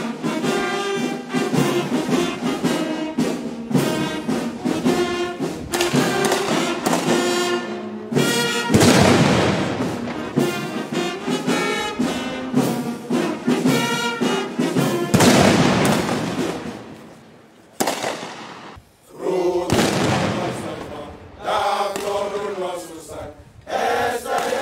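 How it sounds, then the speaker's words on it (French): Cannon fire of a 21-gun salute at a state welcome ceremony for a visiting Chadian president, with heavy booms sounding amid loud brass band music playing the national anthems throughout. "ponctués de 21 coups de canon"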